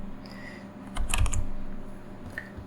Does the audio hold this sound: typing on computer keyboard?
yes